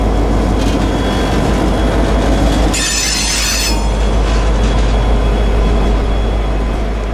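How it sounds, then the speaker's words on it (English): A heavy southbound freight train hauled by an EMD SD50 locomotive rolls past close by, a loud steady rumble of railcars with a sharp squeal of wheels against the rails partway through. "The engineer then notched up his big SD50 and got his heavy train rolling south again."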